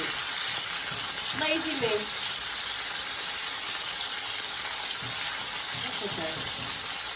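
Chicken frying in a pan for chicken Alfredo, a steady close sizzle running throughout, with a person speaking briefly over it.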